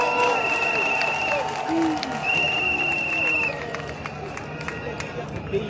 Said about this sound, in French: je demande qu'on les acclame, qu'on acclame notre jeunesse ivoirienne talentueuse